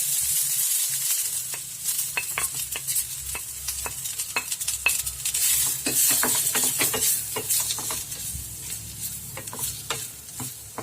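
A large onion and three-colour capsicum hit hot oil in a pan and sizzle loudly, with a steady frying hiss broken by frequent scraping stirs and clinks, close up and without talk.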